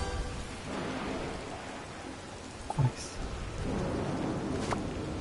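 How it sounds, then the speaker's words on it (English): Steady rain pours down in the video game Disney Dreamlight Valley with a brief low rumble of thunder partway through, all at a soft, even level with no voices. "Damn, it's really raining."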